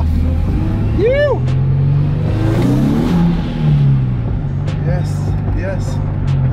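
A Nissan 370Z with a failing clutch slave cylinder pulls away in first gear, its engine droning loud and close with a rising rev, while someone talks over it.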